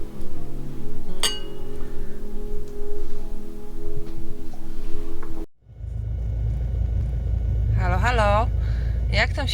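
Glasses clink in a New Year's toast at a home party, a sharp single chime cutting through a cluttered room with background hum, then a brief hush before louder ringing clinks and rumbling noise follow.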